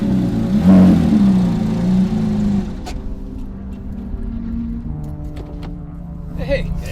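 A race car rolls in off the racetrack at low speed, its engine growling and idling unevenly nearby, with people talking over it.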